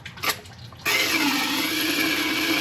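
Water gushes steadily out of an open lower radiator hose on a Toyota during a coolant flush, starting abruptly after a brief quieter moment and continuing as a loud, constant splashing rush.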